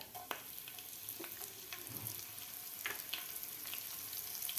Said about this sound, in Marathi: आता व्यवस्थित आपल्याला हे मिरची आणि आलं व्यवस्थित फ्राय करून घ्यायचं आहे.